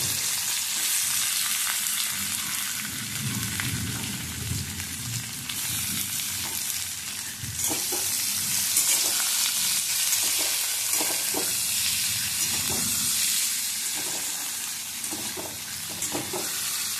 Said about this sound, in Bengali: পেঁয়াজটা ভাজা হয়ে গেছে, এবার আমি পোস্তটা তুলে দিলাম।